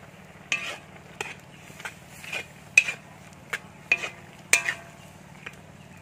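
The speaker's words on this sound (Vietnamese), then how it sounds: "Giờ mình sẽ bỏ cái phần khoai lang chiên vào nha." Fried sweet potato pieces go into a pan of thick mussel curry, with soft scrapes, light clinks and stirring taps recurring every half second or so over a low steady hum.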